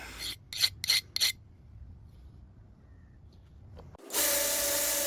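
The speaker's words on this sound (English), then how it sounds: "you see here the file skates, it's nice and hard" A steel file rasping across hardened, oil-quenched knife steel, a nakiri blade, in four quick close strokes, followed after a quiet pause by a steady loud hiss of nearby machinery.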